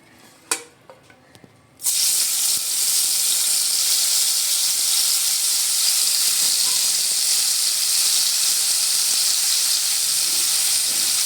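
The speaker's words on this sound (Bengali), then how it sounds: "তেলটা গরম হয়ে গেছে এবার আমি মাছটা ভেজে নেব" Dry fish drops into hot mustard oil in a wok and bursts into a loud, sustained sizzle that stays close and even after a few small clinks at the start.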